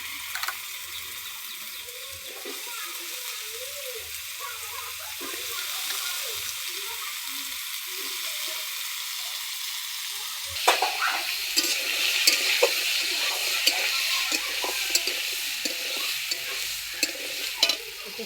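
Pumpkin pieces fry with spices in a pan, a continuous close sizzle that turns louder and brighter partway through as the pieces go in, with scraping stirs and clinks throughout; no speech.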